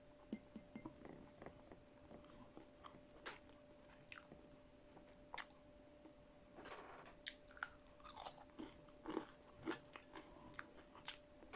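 Close, quiet chewing of crunchy fried beef tapa, irregular crisp bites and crunches with a faint steady hum beneath, no talking.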